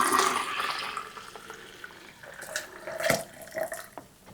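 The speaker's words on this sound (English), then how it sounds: "and that filled it up about halfway, not completely full, so I'll get just a little more water and top it off to the 1/2 gallon mark" Tap water running into a half-gallon jug at a kitchen sink, a steady close splashing stream that rises and falls in loudness with a few brighter gurgles toward the end.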